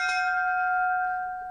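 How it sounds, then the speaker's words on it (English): A fire engine bell on a Dennis fire engine rings once, a bright metallic strike whose clear tone hangs and slowly fades, close and alone with no talk. "no matter how many times you've donged a fire engine bell, you still can't resist it"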